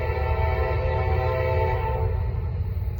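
A Norfolk Southern freight train, NS240, on the Charlotte District, sounds a loud sustained horn over a heavy steady rumble; the horn drops away after about two seconds while the rolling roar continues.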